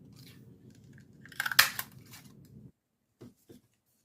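A paper punch bites through a piece of craft cardstock in a quick cluster of sharp crunching snaps, close and fairly loud, over faint background hiss, followed by a couple of soft clicks.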